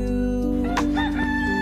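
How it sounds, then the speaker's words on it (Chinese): A rooster crows loudly and close by on Kauai, Hawaii, a single drawn-out cock-a-doodle-doo lasting under two seconds with no talking. "到处都是公鸡在打鸣的声音，"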